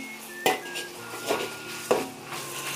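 Soybean paste is stir-fried in a hot pan with scallion, ginger, star anise and dried chili, a spatula knocking and scraping the metal in a few distinct clanks over a low sizzle, close and without talking.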